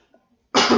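A single loud, harsh cough bursts out abruptly after near silence, close to the microphone.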